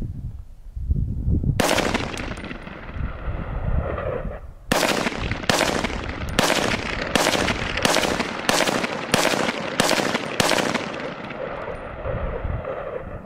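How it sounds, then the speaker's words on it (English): Suppressed Honey Badger rifle fired outdoors: a first shot, then a steady string of about ten sharp muffled reports at roughly one-second intervals, close and loud. "Right now, I'm just getting the feel for it, putting some rounds through it."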